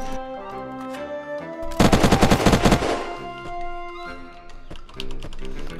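Rapid automatic gunfire in the video game Unturned, a dense burst of about a dozen sharp shots lasting roughly a second, heard over game music and ambient tones.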